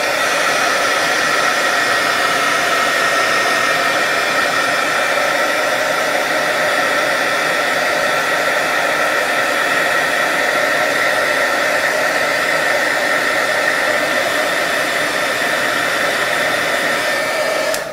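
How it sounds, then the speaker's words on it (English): A heat brush blows hot air over freshly painted plastic miniatures, a steady, loud, unbroken hair-dryer-like whoosh of broadband noise lasting the whole stretch with no talking. "Now I'm going to hit it with the heat brush, and all this is going to do is help dry the paint quicker."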